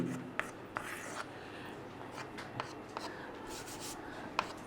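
Writing on a board during a chemistry lesson on molality and molarity, with soft, scratchy strokes and light taps against a low room hum. The marks come in short, irregular bursts, faint and nearby.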